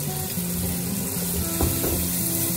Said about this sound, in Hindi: बस मसाला भून गया, काफी हद तक भून गया,